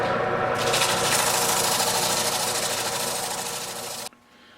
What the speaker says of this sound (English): we're a good hour into the sanding here. I'm mostly having to do it by hand